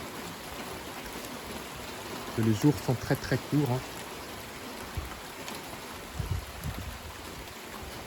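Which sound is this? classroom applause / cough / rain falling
rain falling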